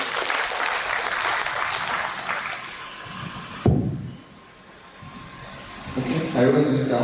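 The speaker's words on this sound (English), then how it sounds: "Can we please give him another round of applause?" Audience applause at a Nigerian Armed Forces resettlement centre gathering, dense clapping that cuts off abruptly midway, followed by quieter room tone and a voice at the end.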